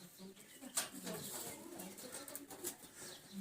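Caged racing pigeons coo in low, repeated murmurs, with brief wing flutters breaking in now and then at moderate, close-range loudness.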